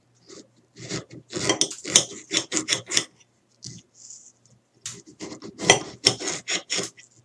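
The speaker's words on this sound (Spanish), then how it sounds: "cortamos nuestro limón en cuatro partes, de punta a punta" A knife cuts a lemon into four parts from tip to tip on a kitchen board, making close, crisp rasping strokes in two bursts of several quick cuts with a short pause between them. No one speaks.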